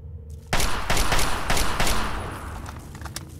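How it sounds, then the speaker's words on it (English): Rapid bursts of automatic Chinese assault rifle fire in the video game Fallout 3, dense loud cracks packed close together, then tapering into quieter scattered shots and echoes. "Go back to the Chinese assault rifle."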